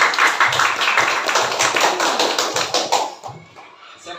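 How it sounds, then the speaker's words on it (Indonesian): A class of students clapping their hands together in a classroom, a dense burst of many hand claps that fades out after about three seconds. "Baik, tepuk tangan."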